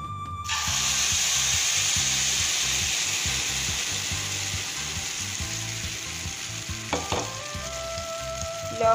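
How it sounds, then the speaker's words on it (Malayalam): Carrot cake batter hits a hot pan and bursts into a steady, bright sizzle that holds for several seconds. A few soft clinks of utensils come near the end, with no talking. "നമ്മൾ ബാറ്റർ ഒഴിച്ചു കൊടുക്കാം."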